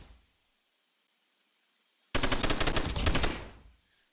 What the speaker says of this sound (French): c'est tellement cheaté, le minigun